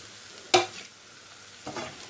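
Nuts tipped into frying makhandi halwa, a sharp clatter and hiss as they hit the hot pan, followed a second later by a softer stirring scrape, close and without talk.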